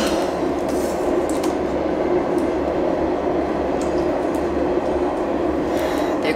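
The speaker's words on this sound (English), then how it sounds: "There goes the train." A train passes at night, a loud continuous rumble and rattle of rail cars with faint clicking on the tracks, steady throughout and close by.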